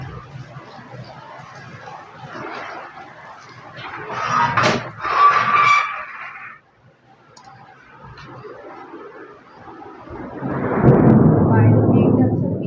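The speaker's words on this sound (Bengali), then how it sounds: "দেখতে পাচ্ছ মেঘ ডাকছে।" Thunder rumbles during rain outside a house. Scattered sounds and some voice activity come first, then a deep, heavy rumble swells loudly near the end.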